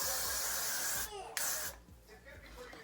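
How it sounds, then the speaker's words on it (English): A short, sharp hiss of an aerosol spray onto a hairline over a bald cap bursts for about half a second, close up, followed by quieter room noise and faint talking. "I'm spraying my hairline"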